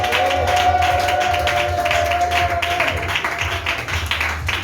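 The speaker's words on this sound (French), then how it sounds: "Est-ce qu'on peut pousser des cris de joie avec des acclamations?" A church congregation applauds and cheers in a dense, continuous wash of clapping and crowd noise, with a sustained tone running beneath the first few seconds and the clapping thinning slightly toward the end.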